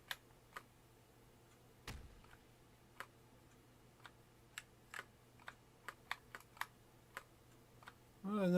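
Single computer key presses tick out sparsely and irregularly, about a dozen crisp, close clicks against a quiet hum, before a voice starts at the very end.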